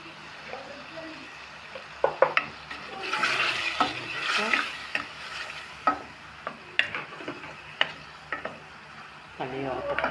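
Tomato paste with red pepper and salt fries in a pot for a Tunisian soup, sizzling steadily while a utensil stirs and scrapes in irregular bursts, with occasional sharp clinks against the pot.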